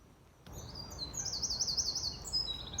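Birds chirp and trill rapidly in a continuous, bright stream, fairly close, above a soft outdoor background rumble; no ducks distinctly audible.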